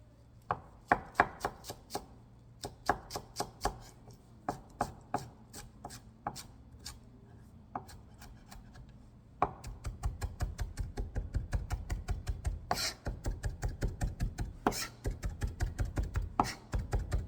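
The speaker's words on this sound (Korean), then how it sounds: "파마늘 생강도 곱게 다져주세요." Knife finely mincing green onion, garlic and ginger on a cutting board for cucumber kimchi, starting as sparse taps and then turning into fast, steady, close rhythmic chopping with no talking.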